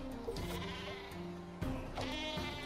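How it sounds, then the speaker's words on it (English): A cartoon sheep in the Worms artillery video game bleats twice in quick succession over a steady game-music and ambience bed, loud and close, with no talking. "Ooh, an exploding sheep."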